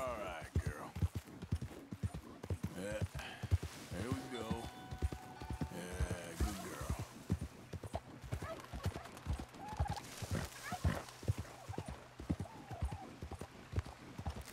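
A horse in Red Dead Redemption 2 sinks and struggles in a river, its hooves clattering in a steady run with occasional whinnies, heard over continuous talking at a moderate distance.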